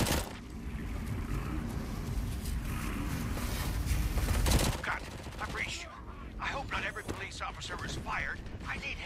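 Dense bursts of automatic gunfire with real bullets in the video game RoboCop: Rogue City roll on for several seconds, then give way to scattered shots and game sounds.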